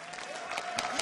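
An esports event audience claps in a brief burst of applause, fairly close and steady over roughly a second.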